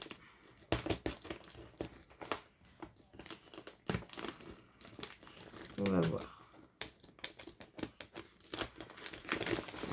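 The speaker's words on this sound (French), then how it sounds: "Le temps de me battre avec le scotch" Crinkling and tearing of adhesive tape being handled and peeled, with crackly bursts under a person speaking softly nearby.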